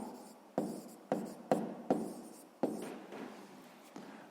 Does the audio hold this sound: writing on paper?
yes